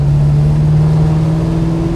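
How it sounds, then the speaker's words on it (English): A 1969 Oldsmobile 442 Holiday Coupe V8 with a steady, loud, close engine rumble that climbs slightly in pitch as it revs, echoing off a nearby brick wall, with no voices over it. "The V8's reverberating off the brick wall over there."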